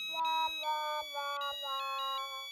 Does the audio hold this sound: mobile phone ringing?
yes